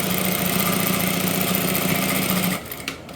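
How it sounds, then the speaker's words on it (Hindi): A hand-cranked sewing machine stitches elastic into trousers, a close, loud, rapid mechanical whirring and clatter that runs steadily, then stops abruptly near the end, leaving a few faint handling clicks. "आपने आगे की जानिब से ये कपड़ा पकड़ के खींचा और फिर आपने मशीन चलाई है"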